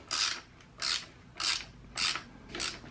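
Socket wrench ratchet snugging a bolt on a Luna Cycle primary drive 219 chain conversion kit install, five evenly spaced bursts of close, quiet clicking ratchet strokes with short pauses between.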